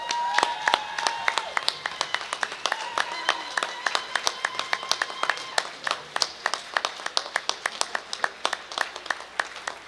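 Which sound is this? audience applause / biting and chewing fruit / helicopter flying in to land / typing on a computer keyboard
audience applause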